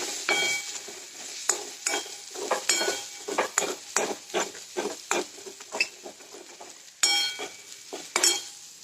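Onion with ginger-garlic paste fries in a pan while a spoon stirs it, giving irregular scraping strokes over a soft sizzle, clear and close with no voices.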